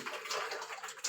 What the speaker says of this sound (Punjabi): ਮੈਂ ਇੱਧਰ ਪਾਣੀ ਆਰੋ ਦਾ ਭਰ ਲੈਂਦੀ ਆ